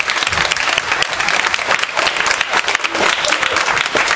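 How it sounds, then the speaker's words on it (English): An audience bursts into loud, sustained applause at a stage hypnosis show in Valkenburg, with dense, close clapping and occasional sharper peaks running through the whole stretch. "everyone will give you a round of applause"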